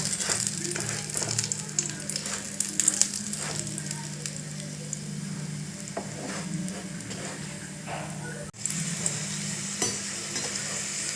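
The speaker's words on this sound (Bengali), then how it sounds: "ভালো করে ভেজে নিতে হবে" A radish paratha fries in oil on a hot pan, giving a soft, steady sizzle close by, with occasional scrapes and taps from turning it and a brief dip in the sound near the end.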